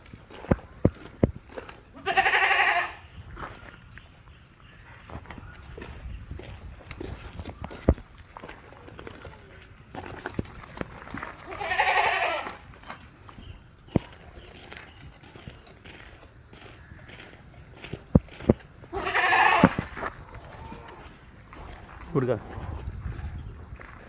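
Three loud, wavering bleats from Malabari dairy goats for sale ring out several seconds apart, with faint shuffling, light knocks and murmured talk filling the gaps between them.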